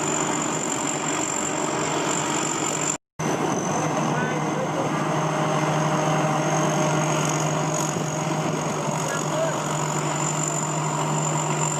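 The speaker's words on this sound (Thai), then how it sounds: "นี่เครื่องยนต์ด้านหลัง" A rice combine harvester's rear engine idles continuously at close range, steady and droning, with a constant low hum and a high whine running throughout, interrupted by one brief dropout.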